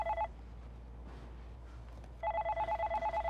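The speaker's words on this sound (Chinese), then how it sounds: "你先接电话啦" An electronic telephone rings in a domestic drama scene, with two bursts of rapid warbling tones separated by a pause of about two seconds. The ring is loud and close, with no talk.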